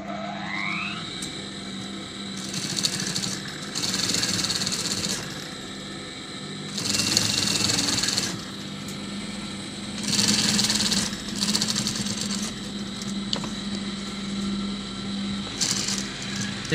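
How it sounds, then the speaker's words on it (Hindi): A sewing machine stitches along a kurta edge in several bursts of steady whirring, each a second or so long with pauses between, close and moderately loud over a constant background hum. "अब इस किनारे के ऊपर आपने प्लास्टर धागे की सिलाई लगा लेनी है।"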